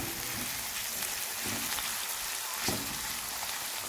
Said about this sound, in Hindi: अब हम पैन लेंगे, इसमें ऑलिव ऑयल डालेंगे.